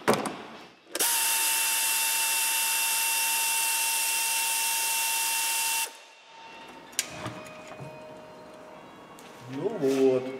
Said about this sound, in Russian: проворачиваем двигатель на треть оборота, выкручиваем следующий болтик, еще на треть оборота, еще один болтик.